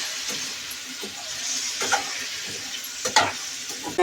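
Tamarind, shallots, cumin and curry leaves frying and stirred in a pan, a close, steady sizzle broken by scraping clinks of the spoon.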